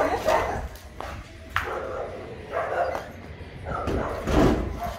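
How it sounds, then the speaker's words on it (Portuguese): An excited dog barks and whimpers in short, irregular bursts at close range, with background noise and a few sharp clicks. "Depois de dois dias, olha a alegria do cachorro."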